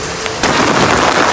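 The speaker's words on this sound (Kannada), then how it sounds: "ಫುಲ್ ಹೆವಿ ರೈನ್ಫಾಲ್ ಇವತ್ತು." Heavy afternoon rainfall pours down in a dense, loud, continuous roar that swells after a brief softer start.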